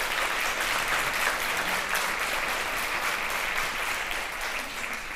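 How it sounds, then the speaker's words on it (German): Steady applause from an audience at a dinner event with talks on climate policy, dense continuous clapping held at an even level and tailing off slightly toward the end, with no voices over it. "ich finde auch, er hat einen Applaus verdient."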